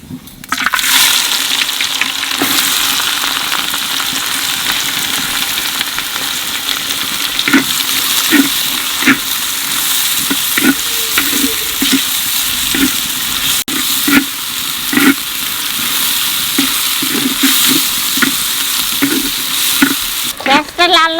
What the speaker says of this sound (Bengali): পেঁয়াজটা লাল লাল করে ভেজে নিচ্ছি